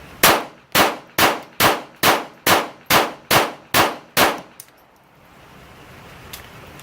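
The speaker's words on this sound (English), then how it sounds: "I'm gonna shoot 10 shots down range, somewhat of a rapid pace" Ten suppressed shots from a Ruger Mark IV 22/45 Tactical .22 pistol crack at a quick, even pace, each a sharp close report with a metallic ring, followed by a quiet outdoor hush.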